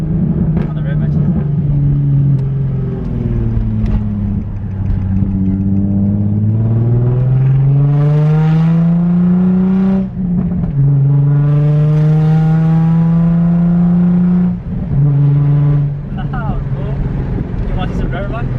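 Stage 3 Nissan 350Z with a loud aftermarket exhaust, revving hard through repeated rising and falling pulls, close and dominant, with brief dips between shifts and voices talking over it.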